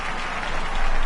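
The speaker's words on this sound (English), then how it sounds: "we have this crowd just clapping for about everything that someone does in this match" Video game crowd in WWE 2K20 clapping during a wrestling match: a dense, steady wash of applause from many hands, loud and continuous, swelling slightly toward the end with no voices.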